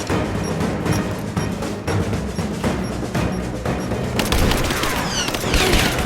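Rapid automatic gunfire in the action video game Rise of the Tomb Raider, a dense, steady stream of loud shots with sharper bursts and ricochet-like cracks toward the end.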